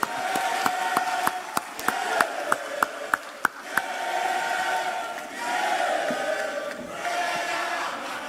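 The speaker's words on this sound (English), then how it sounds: "A resounding round of applause." Students at a laptop-program launch greet Ghana's Vice President Mahamudu Bawumia with loud individual claps near the start. These give way to a swelling roar of crowd cheering that rises and falls.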